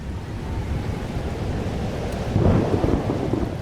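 A steady rush of rain and thunder rolls through a storm scene in the video game Life is Strange Double Exposure, with a deeper rumble swelling partway through and no voices.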